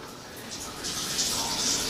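Water runs from a shower tap, turned on only a little while a shower surround is installed, making a steady, soft hiss that grows slightly louder.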